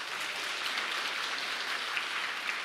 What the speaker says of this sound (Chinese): 我们来拍手欢迎他。